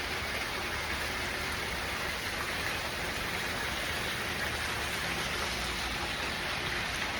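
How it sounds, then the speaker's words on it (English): Steady spring rain falls as an even, continuous hiss of drops on surfaces, moderately quiet and unchanging throughout, with no voices. "but it is a pretty steady rain."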